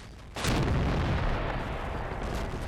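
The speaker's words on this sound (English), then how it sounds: "I ordered the tank to fire at the enemy T-34s blindly" Tiger tank cannon fired blindly at enemy T-34s in the wargame Combat Mission: Red Thunder: after a quiet moment, one loud booming shot bursts out and rolls into a long, dense rumbling echo that fades slowly.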